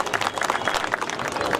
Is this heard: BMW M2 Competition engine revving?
no